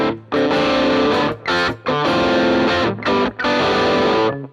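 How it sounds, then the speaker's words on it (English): An electric guitar with a clean, reverb-washed tone and no fuzz strums loud sustained chords in several bursts with brief gaps between them. "the reverb definitely gives us an extra dimension to the sound"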